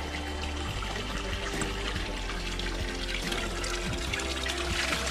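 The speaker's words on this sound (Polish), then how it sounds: "i wpływa woda" Steady, loud rushing of spring water flowing continuously into ruins of an Orthodox church, like a stream pouring into a basin, with no voices.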